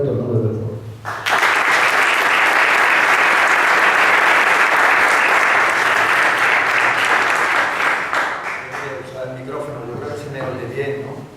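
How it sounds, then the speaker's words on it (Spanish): A large audience at an evening lecture forum in Rota breaks into loud, sustained applause for a researcher after a brief spoken introduction, the dense clapping holding steady for several seconds before fading under a speaker's voice. "Démosle la palabra con un fuerte aplauso de agradecimiento a este extraordinario investigador"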